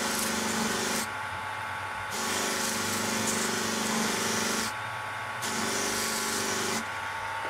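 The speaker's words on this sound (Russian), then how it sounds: "Дальше берем белую пасту и делаем наше зеркало еще более зеркальным." A knife blade is buffed with white polishing paste on a powered wheel, likely a Benchmade Mini Griptilian with a broken tip: a steady whirring rub with two louder stretches of contact against a constant motor hum, no talk.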